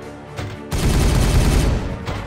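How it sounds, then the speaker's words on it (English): Rapid burst of gunfire from the video game Warhammer 40K Regicide, a dense, loud volley lasting over a second after a brief quieter lead-in, then tapering off. "Firing on target!"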